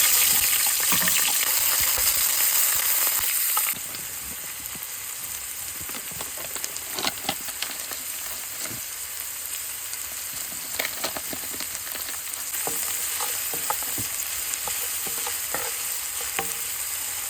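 Onion and garlic fry in hot oil for collard greens, giving a steady, close crackling sizzle with scattered pops and spatters throughout, carrying on alone with no voices.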